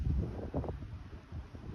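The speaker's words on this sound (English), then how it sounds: "the south wind is now for 3 days blowing over 20 knots." A strong south wind blowing over 20 knots sweeps across the harbor of Calafell during a storm. A rough, gusty rumble buffets the microphone without a break, and no one speaks.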